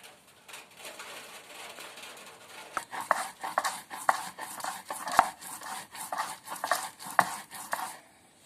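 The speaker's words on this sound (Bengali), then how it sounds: "এখন আমি কিছুটা আদা, কিছুটা রসুন আর অল্প একটু পেঁয়াজ বেটে নেব।" Ginger, garlic and onion being ground on a grinding stone, with rhythmic scraping and knocking strokes that grow louder and quicken partway through, close and distinct.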